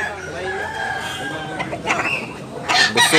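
A rooster crows loudly and close, its drawn-out call rising over clucking chickens, with a couple of sharper bursts toward the end.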